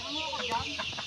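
Chickens cluck in a rural province yard in a brief burst of close, quick clucks over a tonal background.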